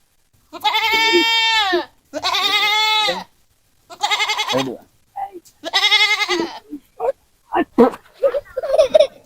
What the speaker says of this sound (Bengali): এই ছাগল কিন্তু ভালো করে ধরেন ছাগল কিন্তু বড় মাতে পারে